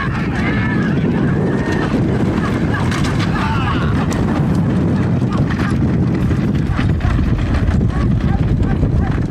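Bullock carts race along a track, a dense, continuous rumble of hooves and wheels mixed with wind buffeting and a busy crowd of voices throughout.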